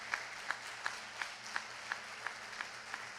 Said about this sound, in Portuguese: Queria que você aplaudisse ao Senhor pela vida dos seus pastores